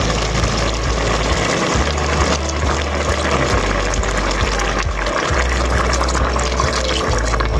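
Coconut milk pours steadily into a boiling pot of laing, a continuous close liquid rush and bubbling over a low rumble.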